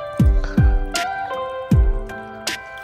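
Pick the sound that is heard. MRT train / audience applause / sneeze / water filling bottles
water filling bottles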